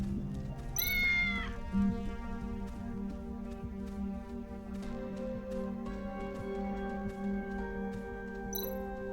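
A cat in the cyberpunk video game Tales of the Neonsea gives a brief rising meow near the start, then stays quiet while soft game music plays steadily underneath.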